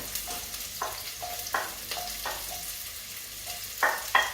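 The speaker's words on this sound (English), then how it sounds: "we're going to put the onions in. Oops, splattering a bit" Onions frying in hot oil for chicken curry: a quiet, steady sizzle broken by repeated metallic scrapes and clinks of a spoon in the pan, with a couple of louder knocks near the end.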